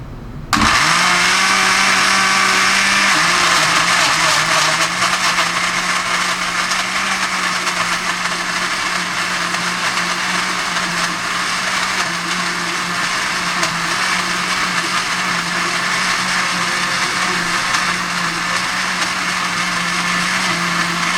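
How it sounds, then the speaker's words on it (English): A Toshiba BL-T60 table blender starts with a quick whir, then runs steadily and loudly on a chocolate peanut butter banana smoothie, holding a constant motor drone for about twenty seconds with no talking. "I'm going to blend it now."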